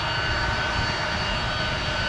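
A jet airliner at Orlando International Airport gives a loud, close, steady broadband roar that holds evenly throughout, with no other sounds standing out.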